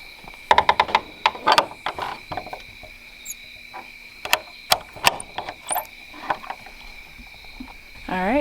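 Animal coops on a homestead are locked up at night with a scattered series of latch clicks, knocks and creaks, some loud and close. A quiet night backdrop of insects runs underneath.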